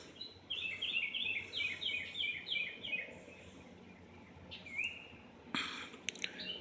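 Small birds sing outdoors in a rapid run of high, bright chirps, followed by a single sweeping call and a few scattered notes over faint background ambience.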